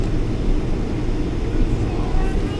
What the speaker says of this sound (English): taxiing to the runway. And we're getting ready to take off.